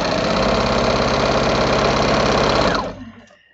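Sewing machine stitching rag quilt fabric, a steady fast mechanical whir with a rapid even rhythm running loud and continuous, then stopping abruptly near the end and fading into quiet room noise.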